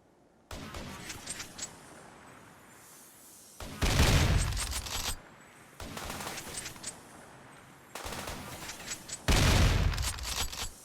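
Bursts of automatic gunfire from colonists in the video game Rimworld, four rapid volleys in alternating lighter and heavier stretches, loud and close with short pauses between, no voices.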